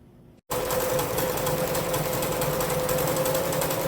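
A sewing machine stitches a sleeve onto a homemade PPE gown, starting abruptly and running at a fast, steady whir with a constant buzzing hum, close and loud.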